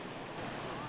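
Waves breaking and rushing around a boat crossing open sea in the middle of Gyeonggi Bay, a steady broadband wash with wind buffeting the microphone, continuous and fairly loud with no clear talk.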